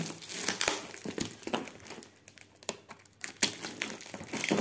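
A gift parcel being unwrapped by hand, with tape lifting and paper crinkling in quick, close bursts of rustling and crackling broken by short pauses.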